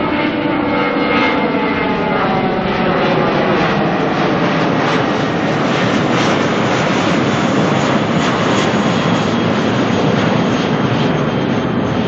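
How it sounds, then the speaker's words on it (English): A Jetstar airliner departs Auckland airport, bound for Dunedin. Its jet engines give a loud, steady roar that lasts the whole time, with a faint rising and falling whine over the top. "Jetstar going to Dunedin."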